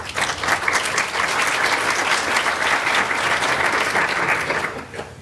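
An audience at an event against racism gives sustained applause, a dense, even wash of clapping that holds steady for several seconds before tapering slightly at the end.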